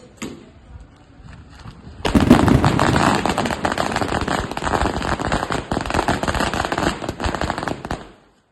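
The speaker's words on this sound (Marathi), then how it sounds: "बाहेर फटाके फोडून आम्ही आमच्या गाडीचं स्वागत केलं." Firecrackers set off outside a home to welcome a newly bought car burst in a loud, dense crackling barrage for about six seconds, rapid overlapping pops following a quieter lead-in.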